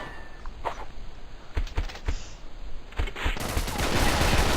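Gunfire in the video game BeGone, with scattered sharp shots and short bursts mixed with game effects, ending in a louder sustained rush of noise, without talk.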